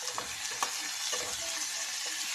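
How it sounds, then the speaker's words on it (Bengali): Potatoes being stirred into fried onions in a pan, with a steady sizzle and a few scraping strokes of the spoon against the pan, close and continuous with no talking. "ভালো করে নেড়ে নেবো"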